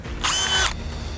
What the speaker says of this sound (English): You want to try drilling it? You want to try to keep the drill as level, keep the bit as level as possible.